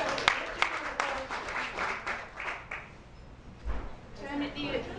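Audience at a RailTrail200 mushers dinner clapping and cheering for a local musher, a rippling burst of applause that tapers off, with talking mixed in.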